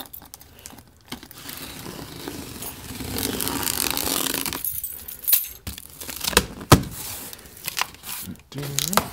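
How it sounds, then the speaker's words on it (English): Tape across the top of a Sceptre curved monitor box is sliced open. It comes through as scraping, crinkling and tearing with a few sharp clicks and taps, close by and fairly loud. "I'm just gonna cut the tape on the top here."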